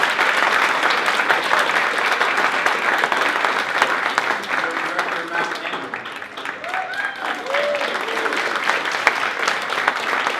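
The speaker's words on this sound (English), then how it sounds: "how about we give a big round of applause for the Reading High Castleers?" Banquet crowd at a scholarship dinner claps loudly and steadily for a high school group, a full room of applause with some voices and cheers mixed in throughout.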